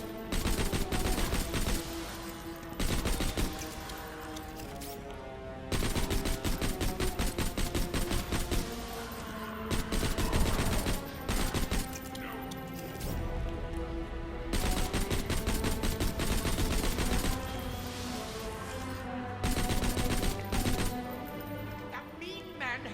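Gunfire from a gun in Borderlands: The Handsome Collection, loud rapid automatic bursts repeating every few seconds with short pauses between volleys, mixed with game effects.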